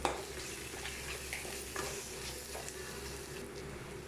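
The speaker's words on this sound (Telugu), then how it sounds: "ఇందులో కొంచెం అల్లం పేస్ట్ వేసేసుకుందాం. అల్లం పేస్ట్ కూడా వేసి బాగా వేసుకుందాం." Browned onions with ginger paste fry in a pan with a steady, quiet sizzle and soft, intermittent stirring scrapes throughout.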